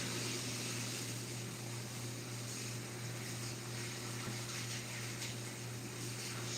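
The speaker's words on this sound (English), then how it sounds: "Gotta rinse it a few times to get rid of all the critters." Running water rinses a whole white snapper in a kitchen, a steady gushing hiss with a constant hum beneath, faint and unbroken, no voices.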